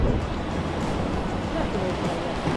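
Sea waves wash onto a beach on Koh Phangan in a steady, broad rush of surf. A little wind noise runs through it without a break.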